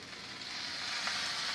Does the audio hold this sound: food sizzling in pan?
yes